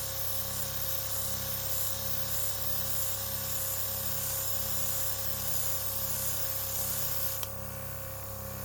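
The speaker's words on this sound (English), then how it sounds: "we're just going to go over here and do a little spray test" A steady, close hiss of an airbrush spraying makeup continuously, with a faint motor buzz beneath and a brief click near the end.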